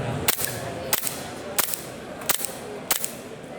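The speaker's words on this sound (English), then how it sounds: "It's dry fire because there's no ammunition, but it's semi-automatic because the firearm will cycle and reset itself for the next shot." A semi-automatic dry-fire training device with simulated recoil, cycling and resetting at a firearm convention: five sharp, loud snapping cracks spaced roughly two-thirds of a second apart, close, over a soft crowd murmur.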